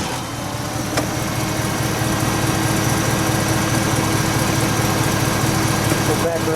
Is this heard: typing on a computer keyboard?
no